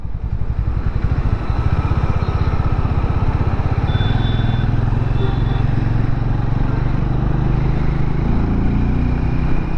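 A Hero Mavrick 440 motorcycle engine drones steadily while riding near 4000 RPM with a light buzz, loud and unbroken for the whole stretch, with wind noise mixed in.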